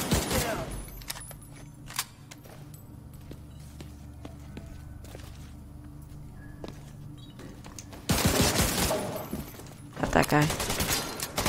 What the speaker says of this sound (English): I'm shooting the shit out of that.